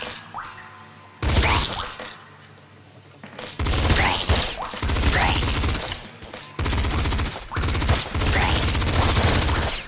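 Bursts of automatic gunfire from a companion in Nuclear Throne, loud rapid rattling volleys that cut in and out in several separate stretches, with quieter gaps between them.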